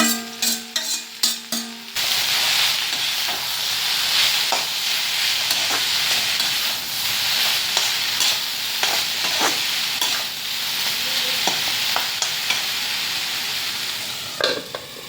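A few metallic clinks, then a loud continuous sizzle of okra stir-frying in hot oil on high flame, with a spatula scraping and tapping the pan now and then.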